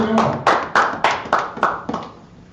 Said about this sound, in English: Come, clap it up